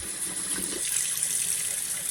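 Hot water gushes steadily from a kitchen tap into a bowl to soak raisins, a constant close hiss with no pauses.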